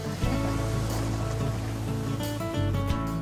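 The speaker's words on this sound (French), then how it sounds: "au loin, un bateau vient à ma rencontre" A boat engine hums low and steady over the wash of the sea, a continuous rumble with water noise, no voices.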